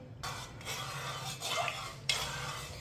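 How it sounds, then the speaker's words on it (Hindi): A spoon stirs sweet vermicelli (meethi seviyan) as it cooks in a pot, making a steady, quiet scraping and rubbing with soft metallic clinks against the pan. "इसे 4-5 मिनट के लिए ऐसे ही पका लेना है चम्मच चलाते हुए"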